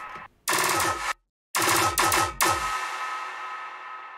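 Gun sound effects layered into a song in D flat, a few sharp loud bursts of rapid gunfire separated by brief silences, the last burst trailing off into a long decaying tail.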